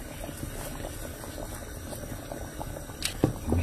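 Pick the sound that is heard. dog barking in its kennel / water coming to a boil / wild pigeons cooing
water coming to a boil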